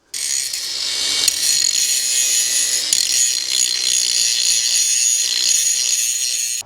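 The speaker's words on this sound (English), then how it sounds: "let's get the angle grinder on that and that end, make that nice and smooth" An angle grinder works against the end of a metal handle on a stump grinding machine, a loud, steady high-pitched grinding whine running almost unbroken from start to finish, close up.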